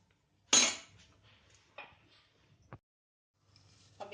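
A metal kadai set down on a gas stove with a sharp clank, then a few lighter clinks and taps of utensils as oil is added, quiet between the knocks.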